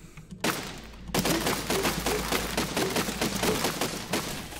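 Rapid bursts of gunfire from a vehicle-mounted gun in the building game Besiege, firing at a tower; a dense, steady barrage of close, loud shots with no talking.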